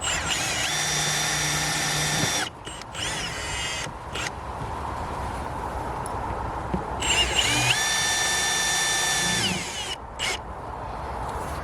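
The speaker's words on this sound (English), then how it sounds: "we're going to fix 2 screws into the gravel board" A power drill drives screws into a fence gravel board at a corner post, with two long whirring bursts that rise in pitch, separated by short clicks and handling knocks, loud and close against a quiet outdoor background.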